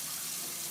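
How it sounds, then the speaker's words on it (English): Steady rush of water pouring from a pot of cooked vegetables into a kitchen sink as they are drained, close and continuous with no pauses. "What I'm doing is I'm just draining it and I'm going to shock it in ice cold water"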